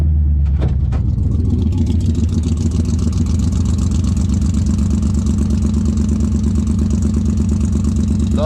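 A 1968 AMC Javelin's 343 Typhoon V8 turns over and catches, then settles into a loud, steady, close-up run with an even throbbing rhythm and no talk.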